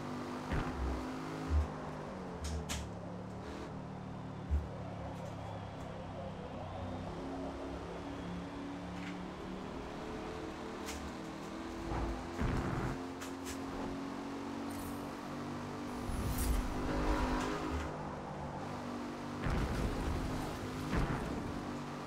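A Chevrolet Camaro Z28 IROC with a possible exhaust leak drives along, its engine a low steady drone with occasional revs and clunks, fairly quiet and with no talk.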